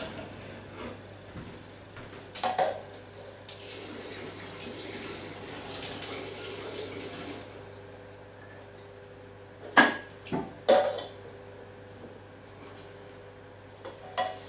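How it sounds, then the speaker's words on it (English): Hot water is drained off boiled carrots in a kitchen, a low rushing splash with a few loud pouring surges and clanks of the pan, separated by quieter stretches of dripping. "So we get those drained."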